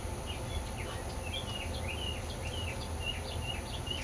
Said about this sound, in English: you're gonna hear birds singing in the background